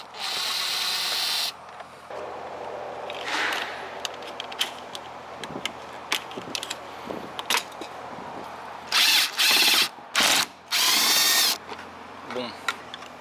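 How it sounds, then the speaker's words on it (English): Power drill backing screws out of body panels on a hurricane-damaged Toyota Supra MKIV during disassembly, with several short loud whirring bursts near the end and clicks and handling noises between them. "Now we'll unscrew all the screws."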